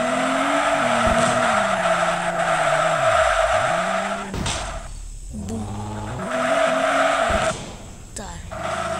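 In a racing video game, a tuned car drifts around the Tsukuba circuit. The engine roars steadily while the tires squeal in long, continuous skids, with brief dips as the car shifts.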